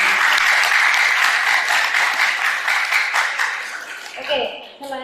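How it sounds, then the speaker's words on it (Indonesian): An audience at a science and technology program for teenagers gives a speaker loud, sustained applause. The dense clapping gradually eases before a voice starts talking near the end. "Tepuk tangan untuk Bapak Fadli."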